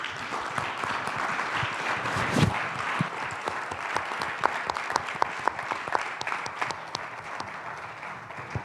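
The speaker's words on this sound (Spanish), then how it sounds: "Hay que darles un fuerte aplauso," Audience applause for the panelists at the close of a Mexican panel on international transatlantic security, steady dense clapping from a seated crowd lasting several seconds, with a few sharper claps standing out near the end.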